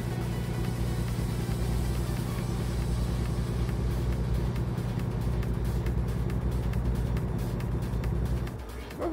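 A truck drives along an empty highway in American Truck Simulator, a steady loud engine drone with road rumble throughout and a slight dip near the end.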